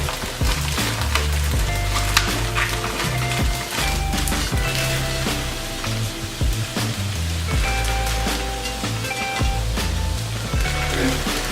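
Sweet corn and tomatoes sizzle in a hot pan, a steady crackling hiss with dense popping and spattering that runs continuously and close up, with a few clatters of utensils on the pan.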